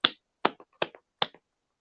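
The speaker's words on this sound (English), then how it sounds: "I'll give him a golf clap." Four slow, soft, isolated hand claps given as a sarcastic golf clap during a casual talk show, evenly spaced and close, with silence between them and no talking.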